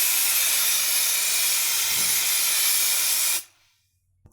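Release agent, a debonding spray for silicone moulds, hisses out of an aerosol can in one continuous, loud burst that stops abruptly and leaves near silence.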